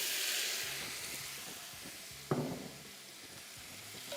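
Beef sizzles and hisses steadily as it fries in a pot for biryani, with a sharp clatter partway through and a soft crackle continuing underneath.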